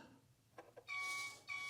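A Turbo Racing C50 4x4 RC semi-truck backing up on a desk, two short taps followed by two clear electronic reverse beeps, close and fairly quiet.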